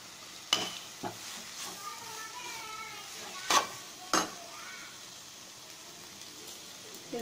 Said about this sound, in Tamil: முட்டைக்கோஸ் வேக கொஞ்சம் வதங்குறதுக்கு டைம் கொடுப்போம்